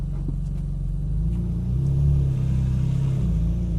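A Ferrari 458 Italia or Nissan R35 GTR sports car on a Las Vegas race track pulls away in first gear, its engine a loud, steady, deep rumble that rises slightly midway and carries on without any talk.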